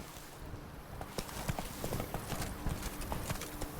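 Horse galloping in The Witcher 3, rapid rhythmic hoofbeats over a dense outdoor ambience, loud and continuous.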